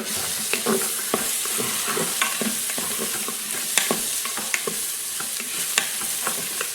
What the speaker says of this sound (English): I'm going to go ahead and add our cumin. Go ahead and give that a good stir.